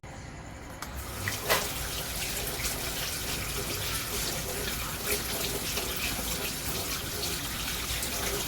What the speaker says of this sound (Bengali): চিকেনটা পরিষ্কার করে ধুয়ে নিই।